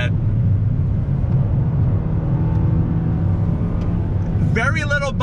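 A 2021 Toyota Corolla Apex with a 6-speed held at full throttle, steady engine drone and road roar filling the cabin throughout, with a brief higher whine near the end.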